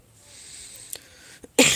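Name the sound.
coughing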